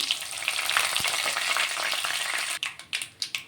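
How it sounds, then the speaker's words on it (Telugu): Cumin, mustard seeds and dried red chillies frying in hot oil: a loud, steady crackling sizzle, then sharper separate scrapes or spatters in a quick irregular run near the end. "ఇప్పుడు ఇందులో కొంచెం జీలకర్ర ఆవాలు వేసుకుంటున్నా అలాగే ఒక రెండు ఎండుమిర్చి"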